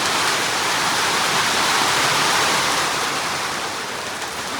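Steady rain pouring outdoors in Solapur at the start of the monsoon, a loud continuous hiss filling the whole stretch with no voices.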